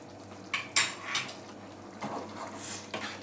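Chicken curry being stirred in a pot, with a few scattered clinks and scrapes of a spoon against the metal in a quiet kitchen, the loudest knock coming early and softer scrapes following.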